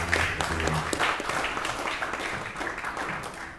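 An audience at a formal government presentation in Jimbaran applauds, giving steady, moderately faint clapping throughout that tapers slightly toward the end.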